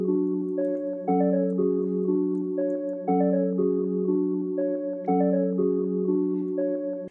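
Dark synth melody looping in FL Studio 20, a sustained harmonic lead stepping through notes in a steady two-bar pattern that repeats three times, loud and continuous with no voices.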